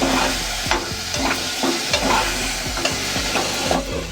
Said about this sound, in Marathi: आता आपण चुरण टाकूया याच्यामध्ये